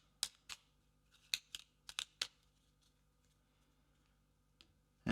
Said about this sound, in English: We're going to reshuffle the rival tiles.